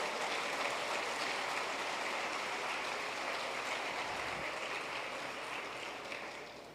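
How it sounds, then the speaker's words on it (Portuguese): Sustained applause from a church congregation, steady and fairly distant, slowly fading toward the end. "Vamos aplaudir a palavra do Senhor bem forte"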